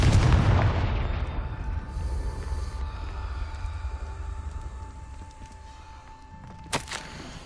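A Confringo spell blast exploding in Hogwarts Legacy: a heavy booming burst at the start rolls into a long fading rumble, with a sharp crack-like hit near the end.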